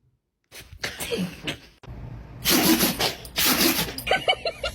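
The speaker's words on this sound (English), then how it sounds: "Good sneeze, Brady." A cat sneezes a few times in quick, fairly loud bursts, with short snuffly breaths between them and faint background noise.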